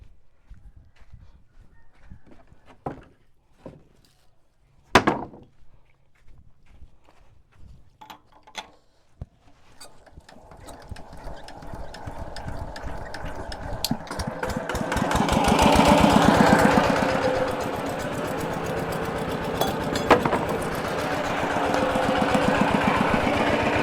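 A few scattered clicks and knocks, then a walking tractor's small single-cylinder engine sputters to life and settles into a loud, steady, chugging run, in rural Laos.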